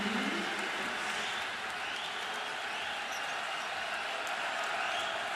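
Men's college basketball crowd at Oklahoma versus Nebraska applauding and cheering steadily at a moderate distance, a sustained wash of clapping and crowd noise after a made basket.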